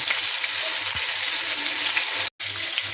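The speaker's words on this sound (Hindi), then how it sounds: "उसके लिए हमने सबसे पहले घी गर्म किया, उसके अंदर इतना आपने कितना बारीक में कटे हुए प्याज डाले, और हम प्याज का कलर थोड़ा सा बस सौते करेंगे" Finely chopped onions sauté in hot ghee with a steady, loud, close sizzle and fry. A brief stir and a momentary cut break the otherwise continuous crackle.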